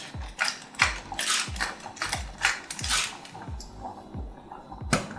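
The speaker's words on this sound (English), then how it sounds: "I'm just going to put a little bit of pepper in." A hand pepper mill grinds pepper into a lemon and olive oil pasta dressing, giving a series of close, crisp ratcheting crunches in an uneven twisting rhythm, about a dozen grinds with no talk.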